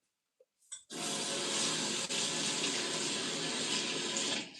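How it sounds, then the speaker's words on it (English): A washcloth being rinsed under a hot running tap: a brief clatter, then a steady, loud rush of water that runs unbroken for several seconds. "now I'm going to run the rag, the washcloth, under a nice hot stream"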